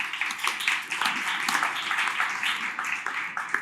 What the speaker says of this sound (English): So round of applause for Dr. Ryan Comeau.